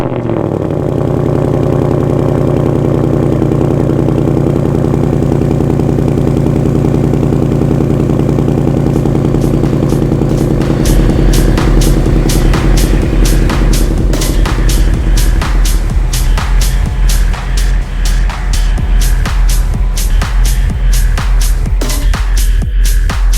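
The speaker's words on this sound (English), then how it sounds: "What better opportunity to do a cold start?" A 2020 Ford Mustang GT PP2 V8 idles loudly and close up after a cold start at -5°C, a steady low throbbing rumble, with rapid clicking and ticking joining in about halfway through.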